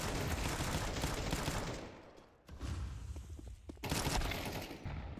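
Rapid bursts of automatic gunfire from a Counter-Strike match, loud and dense with a brief lull midway before the shooting resumes, with no talking.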